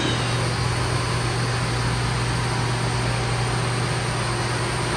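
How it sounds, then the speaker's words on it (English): A big fan blows steadily nearby, a loud, constant broadband whoosh with a low hum underneath that runs unchanged from start to finish, with no other sounds over it. "about that background noise, that's a big fan that's blowing on me"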